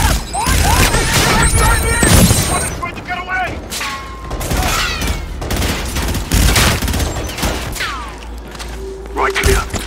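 Chaotic combat din from Call of Duty Infinite Warfare on Jupiter's moon Europa, with heavy booms, crashing impacts and rapid gunfire bursts mixed with whistling effects, and a voice shouting briefly over the loud action.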